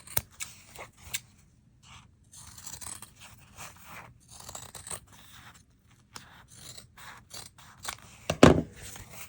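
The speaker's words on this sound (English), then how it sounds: "these are my older fabric scissors, so I'm not as concerned." Older fabric scissors snipping through fabric while making fabric postcards, a series of close, crisp crunching cuts in irregular bursts with short pauses between, and one louder thump near the end.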